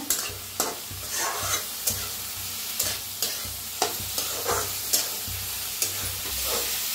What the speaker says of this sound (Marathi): बघू शकताय मटकी अशी छान भाजून घेतलेली आहे